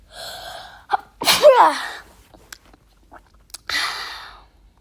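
A loud, close sneeze preceded by a sharp intake of breath, followed by sniffs and a breathy exhale.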